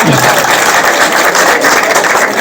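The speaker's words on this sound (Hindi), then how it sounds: "जोरदार तालियों से स्वागत।" Loud, dense crowd applause fills a village welcome ceremony for a BJP leader in Bajana Kalan, Gannaur, a steady unbroken wash of clapping with no clear gaps.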